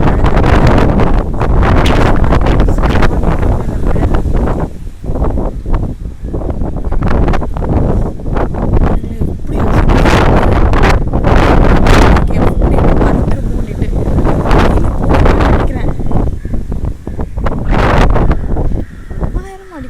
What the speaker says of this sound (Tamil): செம்ம காற்று அடிக்குது.